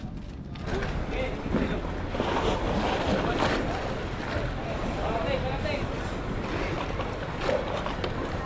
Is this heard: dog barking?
no